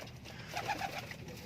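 A homing pigeon with rings on its legs gives a brief, soft coo at close range over faint room noise.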